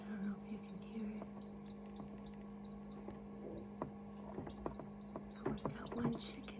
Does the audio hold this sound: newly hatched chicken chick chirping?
yes